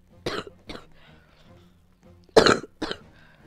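Two pairs of sharp, close coughs, with a quiet pause between the pairs.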